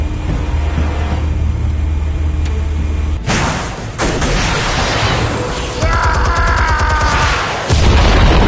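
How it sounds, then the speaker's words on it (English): Explosives detonate in a Batman video game, a heavy boom bursting in after a low steady rumble, followed by crashing debris and mechanical clatter, loud and close with further rumbling blasts. "Explosives armed. Fire when ready."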